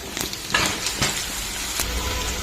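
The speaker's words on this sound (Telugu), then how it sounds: "ఇప్పుడు దీన్ని వేసేద్దాం మనం కర్రీలో." Dried drumstick and curry leaves drop into a mixed vegetable curry on the stove, followed by sizzling and a few scraping stirs of a spoon against the pan, close and brief.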